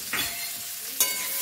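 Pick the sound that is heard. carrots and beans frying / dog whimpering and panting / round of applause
carrots and beans frying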